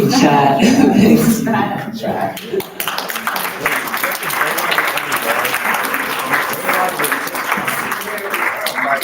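An audience at a youth TEDx talk event breaks into sustained applause, loud and steady, after a few seconds of people talking and laughing.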